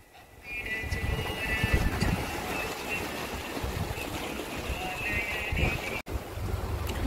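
Strong wind blows at a seaside fishing spot, a continuous rumbling gust buffeting the microphone with surf-like wash underneath, loud and close throughout.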